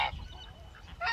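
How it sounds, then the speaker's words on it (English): Geese and ducks in a farm orchard give two short honking bursts, one at the start and one near the end, with quieter rustling and low rumble between. "these geese and ducks in the orchards"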